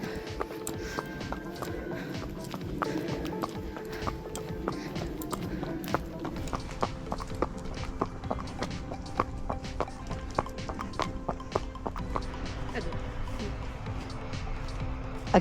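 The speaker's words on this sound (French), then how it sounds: "Et ça fait quoi de monter sur un cheval à 42 ans?" A ridden horse or pony walks with a steady, faint clip-clop of hooves outdoors, while people talk quietly over the rhythmic steps.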